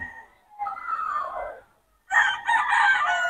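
A rooster at a Pangasinan-bred fowl gathering in Bocaue crows close and loud, a short call followed by a longer, brighter crow after a brief pause.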